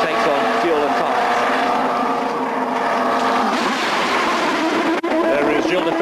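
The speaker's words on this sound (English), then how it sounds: "you can hear the engine burbling down the pit lane" A 1998 CART race car engine burbles at the Portland race. It grows steadily in pitch and volume at close range as the car moves down the pit lane. A commentator talks over it throughout, and a brief dropout comes near the end.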